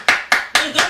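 Four sharp hand claps, evenly spaced and close by, each a bright broadband burst with a short decay; a sparse, single-person clap rather than crowd applause.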